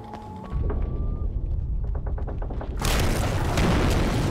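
A flashbang goes off in the video game Alan Wake, a loud, deep boom that swells into a dense crackling burst, following rumbling game ambience and faint mechanical sounds.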